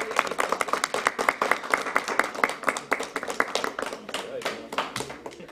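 An audience at a weekend culinary and performing arts event in Manassas, Virginia claps for the committee, a moderate burst of individual hand claps that thins out toward the end.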